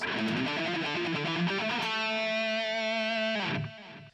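A distorted electric guitar plays a fast alternate-picked run through the natural minor scale, then settles into a sustained ringing note before cutting off near the end, loud and alone.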